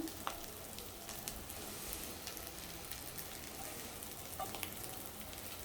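Freshly flipped chana cutlets sizzle in a pan with a soft, even crackle that runs steadily throughout, quiet and close, with a few tiny pops.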